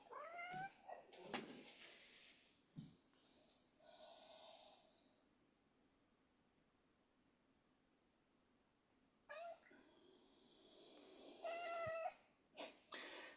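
A pet cat named Arthur makes odd meows and snorting noises in a quiet room, loud bursts at the start and again toward the end with near silence between.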